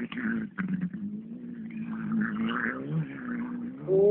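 A Mitsubishi rally car at a Bakonya rally stage drones in the distance with a steady, rising engine note, faint and far off, while nearby spectators chatter over it.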